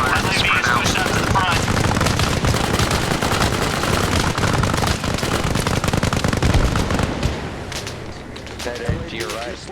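Heavy gunfire in the military shooter Arma Reforger, a dense, continuous barrage of rapid shots and bursts that stays loud for most of the stretch and thins out near the end, with voices talking over it.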